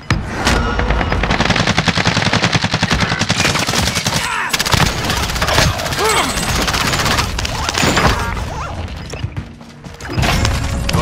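Gunfire in a video game rattles nonstop in dense, loud bursts. Rapid automatic fire mixes with crashes and thuds, and voices sit faintly underneath.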